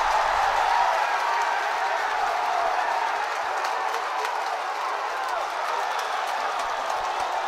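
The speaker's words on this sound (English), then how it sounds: "the Offaly crowd come to life" Hurling crowd in Portlaoise roaring and cheering after an Offaly goal in the 2010 Leinster championship replay against Galway, a loud continuous distant stadium roar throughout.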